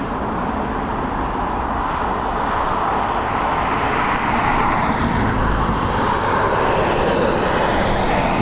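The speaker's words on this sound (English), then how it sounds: "That beautiful 777 emerging from behind those trees" A Boeing 777 airliner near the runway at Dublin Airport gives a steady, broadband jet roar, loud and unbroken throughout with no voices.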